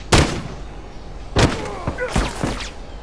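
Gunshots in The Last of Us multiplayer, three sharp loud blasts spaced about a second apart, with a faint mechanical clatter after the last, under quiet background noise.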